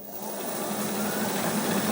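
A Cub tractor engine with the power takeoff engaged, revving up steadily from a lower note into a loud, sustained, whining drone at close range, with no speech.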